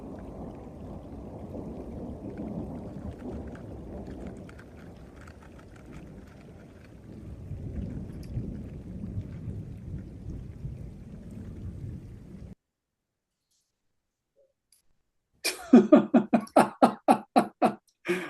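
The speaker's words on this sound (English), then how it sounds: "I hope you can hear the thunder." Low rolling thunder rumbles for about twelve seconds during a storm in the Eastern Sierra, deep and fairly distant, then cuts to silence before a burst of sharp rhythmic clicks.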